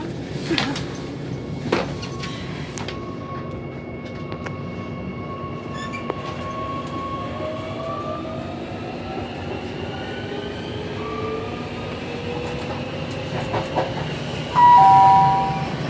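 A Gautrain commuter train rolls along with a low rumble between stations near Sandton, Johannesburg, wheels squealing and whining in long drawn tones, a louder clatter surging near the end.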